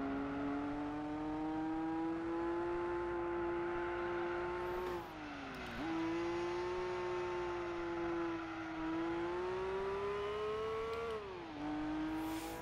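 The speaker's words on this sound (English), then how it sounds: "Imagine if an exhaust sounded like this in real life." A Gran Turismo 4 race car engine drones loudly and steadily, rising in pitch as it revs and dropping at each gear shift, with several distinct shifts across the run and no one speaking over it.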